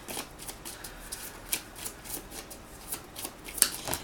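Cards being shuffled and drawn during a tarot-style reading: soft riffling and flicking with a few sharper snaps, close and fairly quiet, with no talking.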